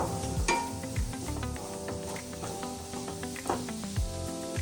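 Mushroom masala stirred and fried in a pan: a soft sizzle broken by repeated scraping strokes of a spoon against the pan in an uneven rhythm, close and alone.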